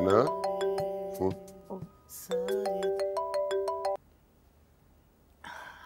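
A phone ringtone plays close and clear, a tonal repeating melody in two bursts separated by a brief gap, then stops, followed by a faint quiet room and a short rustle.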